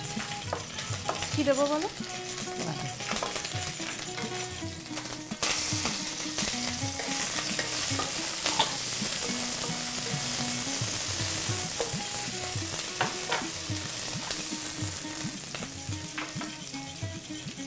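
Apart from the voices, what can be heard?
ginger garlic paste frying in a pan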